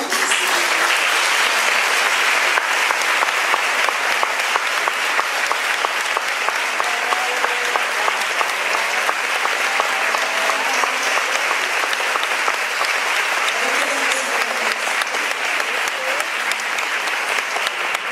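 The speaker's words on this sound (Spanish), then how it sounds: "un aplauso para Virginia" Sustained audience applause at a literary event in Rosario, a dense steady wash of many hands clapping for about eighteen seconds without letup.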